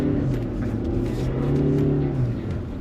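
Tank 300 Fury Edition SUV climbing off-road, its engine revving steadily and loud up close, a sustained droning pull with rising pitch throughout.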